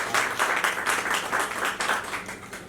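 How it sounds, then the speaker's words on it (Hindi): An audience at a launch event for a Hindi TV serial claps in a dense, lively burst of applause, fairly close and steady throughout with no talking over it. "दोस्तों, सबसे पहले तो इस छोटी सी प्यारी सी टीम को एक जबरदस्त ताली चाहिए।"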